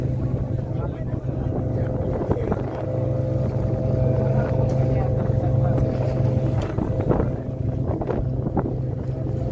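A boat motor drones steadily over open water near Banjul, Gambia, with wind buffeting the microphone and occasional splashes and knocks throughout.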